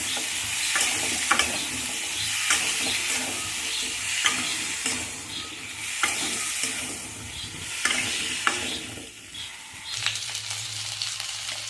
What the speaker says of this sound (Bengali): এবার এটাকে আমি নেড়ে ফেলে ভেজে নেব